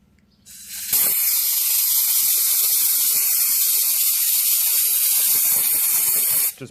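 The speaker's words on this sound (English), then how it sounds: "Just blasting some air across it, try and dry it out here" An air blower starts with a sudden roar and blasts a steady, loud, broadband rush of air across a surface to dry it, holding constant for several seconds before cutting off abruptly.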